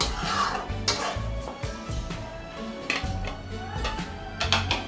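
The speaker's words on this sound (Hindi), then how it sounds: "अब इसमें एक मीडियम साइज का टमाटर और 3 से 4 हरी मिर्च ऐड कर देंगे और इसे अच्छे से मिक्स कर लेंगे।" A spoon clatters and scrapes against a pot while fish and potato curry is mixed with tomato and green chilies, producing irregular metallic knocks and stirring sounds that come close and moderately loud, with no talking.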